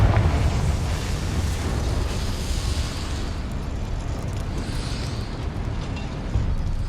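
Confringo fire spell exploding in the Hogwarts Legacy video game, a loud sustained roaring burst of rumbling blast noise that carries on steadily for several seconds without speech.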